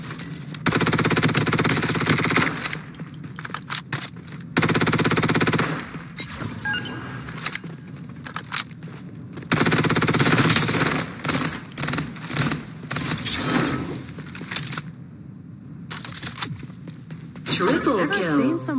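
Rapid automatic gunfire bursts from the Farlight 84 video game, loud and close, in stuttering volleys with short pauses between, mixed with game voice callouts.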